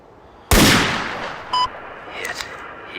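A single sharp sniper-rifle shot from the Sierra 7 flash video game cracks loudly and decays over about a second, followed by a short electronic tone and faint later effects.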